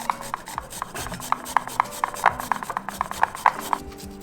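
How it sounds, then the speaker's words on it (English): Fresh ginger being grated into curd for a prawn tandoori marinade, a rapid run of rhythmic scraping strokes, close and distinct, with no talk. "To this, I am going to grate 1 inch of ginger."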